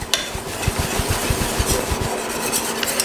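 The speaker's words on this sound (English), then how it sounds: "And then whisk it just to make sure." A whisk beats egg mixture into pudding mixture for a banana cream pie, a quick run of rhythmic scraping strokes against the bowl, close and fairly loud, with no talking.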